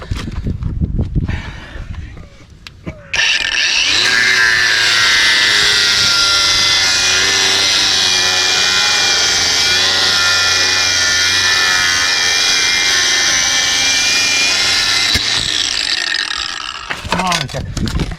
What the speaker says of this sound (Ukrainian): Болгарці Деволь дуже легко регулювати швидкість